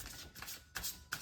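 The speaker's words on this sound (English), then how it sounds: "we're going to do 2 more shuffles" Tarot cards are shuffled quietly in a few soft riffling bursts, close and faint, with no talk.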